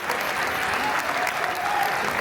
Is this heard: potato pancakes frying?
no